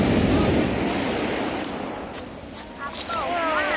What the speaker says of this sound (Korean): 파도 소리가 아주 끝내준다